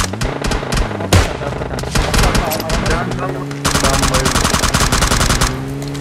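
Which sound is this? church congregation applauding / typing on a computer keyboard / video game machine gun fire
video game machine gun fire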